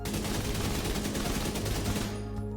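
Rapid automatic rifle fire in The Division 2 video game, at a 20-metre target, rattles continuously at close range, a loud sustained burst that cuts off near the end.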